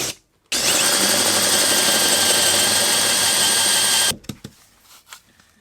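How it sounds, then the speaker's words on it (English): A power drill bores through an off-cut of standard 110 waste pipe, a loud steady whine running about three and a half seconds close by, then stopping abruptly with a few small knocks after. "I'm going to drill through with my correct bit now."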